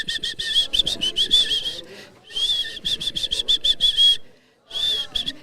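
A woman whistles a bird call through her mouth, a series of rapid, bright warbling chirps in three bursts separated by short pauses, close and clear, imitating birdsong.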